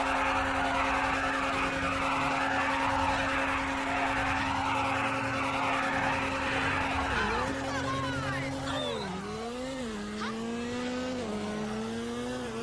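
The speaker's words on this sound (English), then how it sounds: "It's time for a little old school tire shaving." A car in Grand Theft Auto held at high, steady revs during an old-school tire-shaving burnout, spinning tires hissing loudly underneath, before the engine pitch dips and wavers as the car starts moving.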